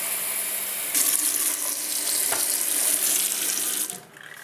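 Water runs from a tap into a sink, a loud close rushing stream that strengthens after a second, holds steady, then cuts off near the end, leaving a quieter trickle.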